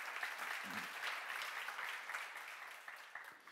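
A church congregation applauds at a seminar, a sustained wash of clapping from many people that fades slightly toward the end.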